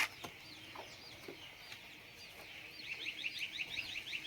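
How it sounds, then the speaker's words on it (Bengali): Chickens cluck faintly at a distance, with soft scattered calls that grow into a quicker run of clucks near the end over a quiet background hiss. "মুরগি আসে গেছে কিন্তু"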